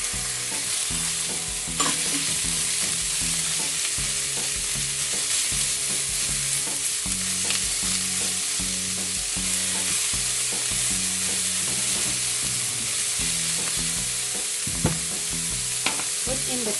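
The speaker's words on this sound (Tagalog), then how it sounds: "We may now add the pork." Pork frying in a pan, sizzling steadily with repeated scraping stirs of a utensil in a regular rhythm, close and moderately loud, no voices present.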